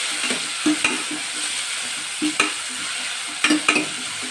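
Chopped onions fry in oil in a pan for an elephant foot yam curry, a steady close sizzle broken by a few scraping stirs of the spoon, with no talking.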